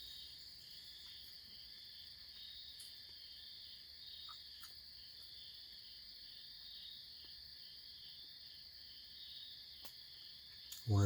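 Crickets chirp steadily at night on the edge of Appalachia, a continuous high trill with faint scattered clicks and a soft rustle at the very end.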